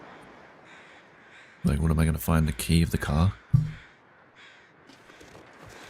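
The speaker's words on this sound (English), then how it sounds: "So what do these birds mean? Crows?" Crows caw in the wintry survival video game The Long Dark, faint and spaced out in the background, while someone talks over them in a loud burst in the middle.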